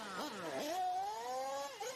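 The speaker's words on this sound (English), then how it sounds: "We hear some cars coming into the pit lane." Nitro RC buggies at the EFRA Euro B 2024 finals buzz into the pit lane, small high-revving engines whining and shifting pitch up and down, loud and close for a couple of seconds.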